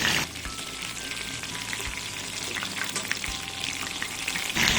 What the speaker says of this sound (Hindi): हमें इन पकौड़ों को मीडियम गैस पे ही तलना है।